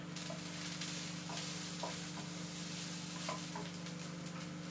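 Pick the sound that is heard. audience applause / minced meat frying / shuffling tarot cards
minced meat frying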